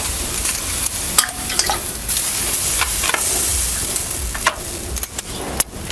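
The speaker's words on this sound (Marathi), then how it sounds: "आपल्याला चांगलं असं आता भाकरीना भाजून घ्यायचं बघा" Bhakri flatbread, brushed with water, roasts on a hot iron griddle over a wood-fired clay stove, giving a continuous soft sizzle and hiss broken by sharp scraping and tapping clicks, heard up close.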